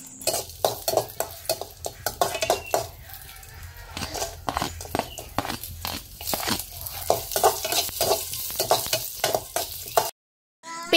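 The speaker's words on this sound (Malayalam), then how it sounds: "അണ്ടിപ്പരിപ്പും അതേപോലെ മുന്തിരിയും ഒക്കെ ഒന്ന് വറുത്ത് എടുക്കുന്നുണ്ട്" Cashews and raisins frying in a pan give a close sizzle broken by repeated sharp scrapes and clinks of a spoon against the pan, with a brief silent gap near the end.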